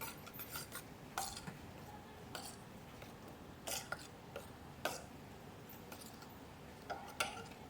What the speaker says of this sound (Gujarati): હવે આપણે મિક્સ કરી નાખીએ આપણે ચમચીથી.